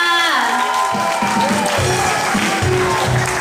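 A large crowd screams and claps loudly throughout, with a voice or sung tone rising above the steady roar of applause.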